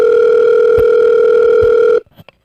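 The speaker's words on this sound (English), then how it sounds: "Your phone is ringing, bro." A loud, steady electronic telephone tone sounds continuously for about two seconds in a horror game, then cuts off abruptly, leaving a few faint knocks and clicks.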